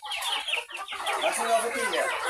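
Vaccinated farm broiler chickens clucking close by, a busy overlapping run of squawks and clucks from several birds, with a voice mixed in.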